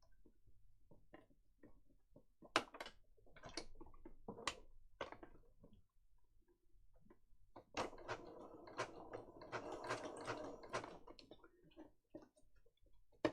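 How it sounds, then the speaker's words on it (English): A sewing machine runs a zigzag stitch along a strip of lace, giving short bursts of rapid mechanical ticking and whirring, with a longer, denser run of stitching near the end. "I'm just going to put this on a little zigzag stitch so it catches the lace all the way down"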